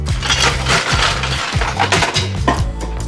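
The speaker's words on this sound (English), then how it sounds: "I'm gonna ice it up" Ice cubes tumbling loudly into a martini mixing glass that already holds Bombay Sapphire gin and dry vermouth, a dense rattling clatter of clinks and knocks with no talk.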